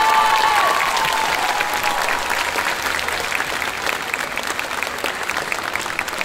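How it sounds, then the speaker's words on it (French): A crowd applauds at a convention stage show, with full, even clapping that opens loud and eases a little, continuing alone for several seconds. "On applaudit."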